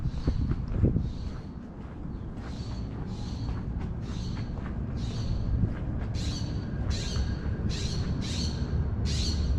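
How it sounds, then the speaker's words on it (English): An owl perched on a handrail on a college campus at night gives a run of short, harsh screeching calls. They repeat at a steady pace and grow more frequent toward the end, heard over a low background rumble. "That is an owl sitting on the handrail."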